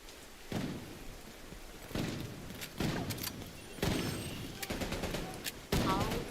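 Gunfire in the Call of Duty video game comes as several loud, close bursts a second or so apart, each followed by a busy rumbling spray of game noise.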